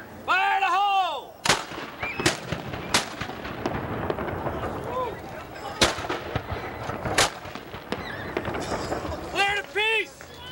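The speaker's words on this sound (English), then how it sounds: "Prepare to fire. Fire! Fire in the hole!" Cannon firing during a 1992 safety demonstration: several sharp, loud booms spread across the span, each standing alone, while people shout commands between them.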